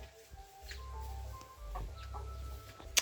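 Laying hens in a small backyard flock of about twenty cluck softly and intermittently at a moderate distance over a low rumbling background, with a sharper call near the end.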